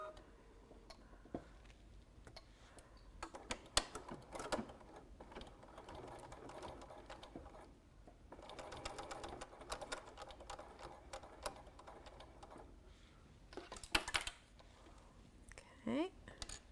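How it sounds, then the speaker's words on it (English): A sewing machine stitches along a quarter-inch fold of a crossbody bag in rapid mechanical bursts separated by pauses, with a person talking quietly between runs. "So we're just going to stitch right along where that 1/4 inch fold is folded."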